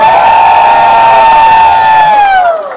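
An audience at a Silvetty Montilla grand finale lets out a loud, sustained cheer with high whooping voices that swells and then drops away near the end.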